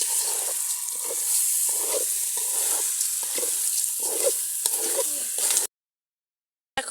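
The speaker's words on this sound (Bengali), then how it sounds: "এখন নাড়াচাড়া দিতেছে।" Khichuri with rice and salt sizzles in a pot as a spoon stirs it in steady, repeated scraping strokes, close and fairly loud, before the sound cuts to silence near the end.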